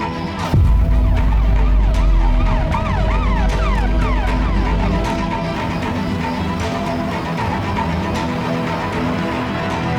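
Police car sirens arriving, loud wailing tones sweeping up and down close by, joined by a heavy vehicle rumble, continuous for the whole stretch with no talking.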